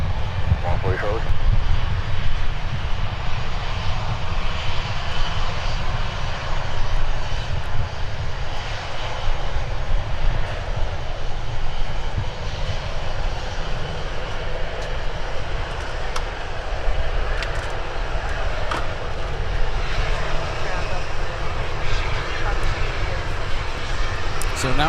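Jet airliners taxi on a taxiway at Minneapolis–Saint Paul airport, their engines a continuous loud whine and rumble for the whole stretch, with radio chatter and a commentator talking over it.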